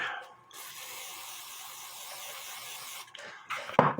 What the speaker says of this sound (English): I'm going to put a little bit of WD-40 on this rag